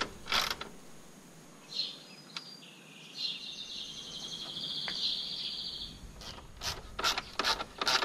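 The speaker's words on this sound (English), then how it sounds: "Set all the screws on top of the mask . And tighten by the hand." Screws are tightened by hand on top of a headlight mask, with close, quiet creaks, squeaks and ratcheting rubs, then several short clicks toward the end.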